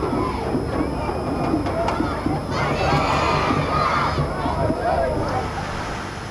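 Crowds of spectators gather at the Newcastle quayside to celebrate the tall ships, a dense wash of cheering, shouting and chatter from many voices, steady and loud throughout with no clear break.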